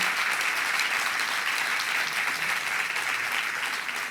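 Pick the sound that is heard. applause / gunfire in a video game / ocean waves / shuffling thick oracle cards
applause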